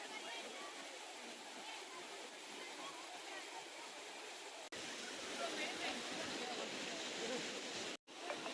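Steady, close rush of a waterfall pouring over rocks, a dense broadband hiss that holds throughout with a brief cut near the end.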